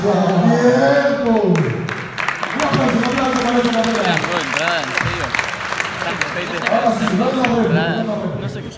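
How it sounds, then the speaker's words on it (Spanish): Audience applause and cheering erupt at a rap battle, a crowd clapping and shouting loudly throughout while voices yell excitedly over the noise. "¡Un aplauso fuerte para la entrada!"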